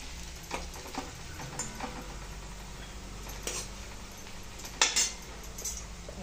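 Sautéed onions in a pan give a faint, steady sizzle with a few light spoon scrapes and clinks against the metal as they are stirred.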